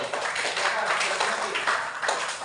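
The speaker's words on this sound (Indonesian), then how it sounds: "Ya, tepuk tangan dulu." An elementary school classroom of children claps together, a busy, moderately loud patter of many small hands that stays steady throughout, with voices mixed in.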